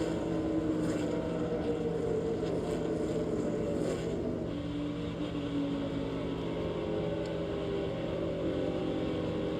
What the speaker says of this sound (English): So you hear Ty out of the throttle when Jack gets off the throttle